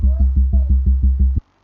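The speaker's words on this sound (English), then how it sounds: "just a sine wave" Deep sub-bass sine wave, lightly saturated and limited, pulses in eight quick, even throbbing notes before stopping abruptly into silence.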